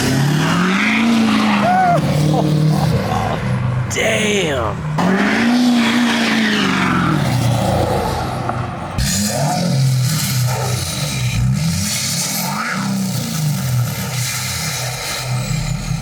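A loud modified diesel truck engine with aftermarket parts revs up and down repeatedly, its pitch rising and falling in waves, close by, with one brief exclamation from a voice.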